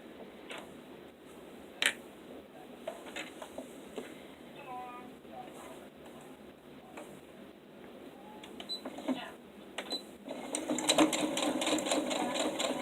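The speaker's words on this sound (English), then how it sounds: "you're going to sew down this edge and then you're going to sew down this edge" A sewing machine stitches down an edge of a fabric sewing caddy through thick layers, running in stop-start bursts with fast mechanical clatter and ticks, nearby, growing louder toward the end, with a voice speaking at times.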